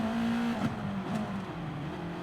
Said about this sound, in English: Oh, this car is so loud.